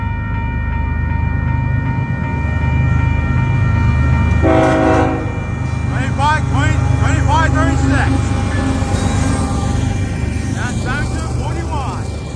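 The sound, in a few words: intermodal freight train passing with horn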